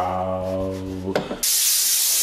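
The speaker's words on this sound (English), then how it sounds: "roughening up the surface with the 80 grit" Car body panel being roughened with 80 grit sandpaper before body filler is applied: a short tonal mechanical hum gives way to a loud, steady, close rasping scrub that runs to the end.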